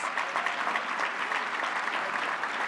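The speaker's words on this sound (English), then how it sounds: "give yourselves a round of applause" A business luncheon crowd claps in sustained applause, loud and even throughout, with no pauses.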